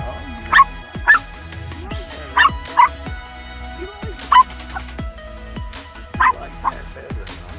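A miniature pinscher yips and barks in sharp short bursts, about seven high barks spaced unevenly aboard a Carver 260 cabin cruiser on Lake Hartwell, over steady engine and background hum with someone talking.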